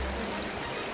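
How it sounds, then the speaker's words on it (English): A creek runs beside a waterfall trail in Pacific Palisades, California, giving a steady, full rushing and trickling sound that stays close and continuous. "There's already a creek here."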